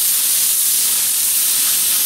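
Garlic sizzling in hot olive oil in a discada cowboy wok, a loud, steady, close hiss that fills the clip without a break and with no talking.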